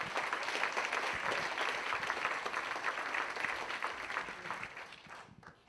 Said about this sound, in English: Let's give a round of applause for Gloria.